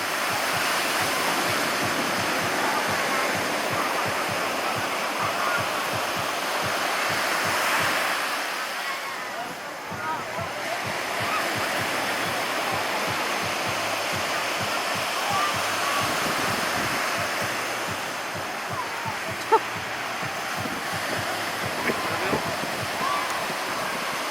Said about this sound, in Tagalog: Ang lakas ng hangin, parang mahirap mag-drone.